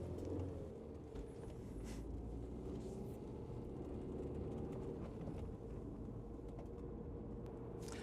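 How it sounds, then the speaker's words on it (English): A low, steady idle from a cold, low-mileage car engine rumbles quietly and evenly throughout, with no voices, just a soft continuous hum close by. "as you can hear, the engine is lovely and quiet"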